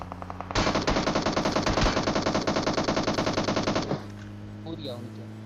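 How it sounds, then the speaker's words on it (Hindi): Rapid automatic gunfire from behind the player in PUBG Mobile rattles out in one long, loud sustained burst, then cuts off, leaving quieter game noise and faint chatter. "हमारे आगे जाने पे ये लोग पीछे से गोलियां चलाते हैं"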